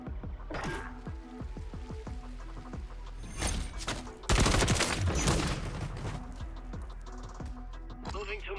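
Rapid fire from the Ram weapon in a video game: a fast volley of shots around the middle, with scattered single shots and impact sounds before and after, loud and close, with someone talking over it.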